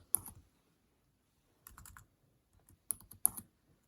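Short bursts of typing on a computer keyboard, close and quiet, with crisp clicky keystrokes in small clusters separated by pauses of near silence.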